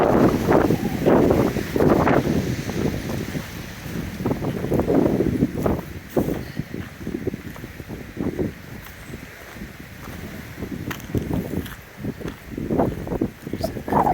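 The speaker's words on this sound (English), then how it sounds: "And that's a lot of wind," Strong gusty wind buffets the microphone on an outdoor trail beside a parked van, a steady broadband roar rising and falling in surges, with a person talking over it.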